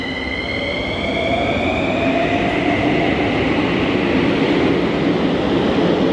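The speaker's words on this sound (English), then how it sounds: "There's the other train." A train rumbles past continuously with a steady roar and faint high-pitched wheel squeal, fairly close and loud throughout, in Eastern Europe.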